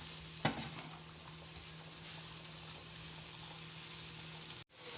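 Butternut squash noodles and black oyster mushrooms are stirred in a pan over a soft, steady sizzle, with one brief utensil scrape near the start and a sudden cut near the end.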